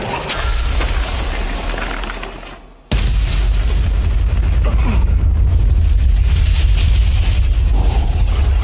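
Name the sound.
explosion of an explosive fire spell in an anime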